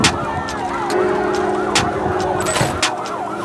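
A wailing fire engine siren rises and falls close by, loud and continuous over street noise, with a few sharp bangs and clatter mixed in, at a market fire.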